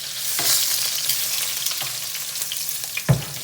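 Lamb shank searing in hot oil for a ragu, a steady close sizzle and crackle with a few soft knocks from a utensil turning the meat, ending in one sharper clunk.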